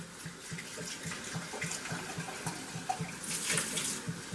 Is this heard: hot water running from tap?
yes